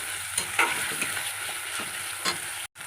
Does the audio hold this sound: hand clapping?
no